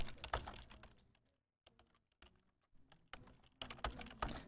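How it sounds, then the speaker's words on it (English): Typing on a computer keyboard while composing a school email: bursts of close, quiet key clicks in quick irregular runs, broken by a short pause mid-way, with no talking. "Next, you type something into the subject"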